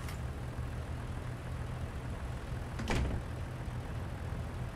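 Passenger doors on a Northern Pacer train lock with a short mechanical clunk near the three-second mark in Train Sim World 4, set against a steady low engine rumble.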